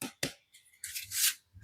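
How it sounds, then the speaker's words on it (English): Close, quiet rustle and flutter of playing cards being shuffled by hand, a few brief riffling bursts with short pauses between, no voices. "just shuffle each deck and take a card"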